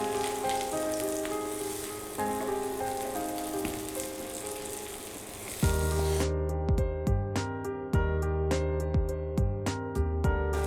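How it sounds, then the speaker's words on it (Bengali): Rui fish in a breadcrumb coating fries in a pan with a dense, crackling sizzle. In the second half the sizzle turns sharper, with crisp pops over a steady tonal hum. "অপর পিঠটাও আমি এরকম একটু ব্রাউন কালার করে ভেজে নিব"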